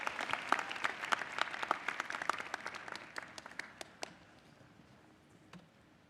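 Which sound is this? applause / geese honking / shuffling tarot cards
applause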